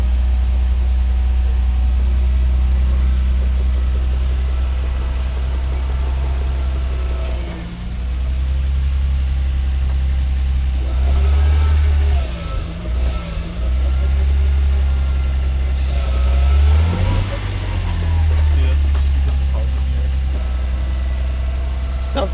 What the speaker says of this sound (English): The trans does whining.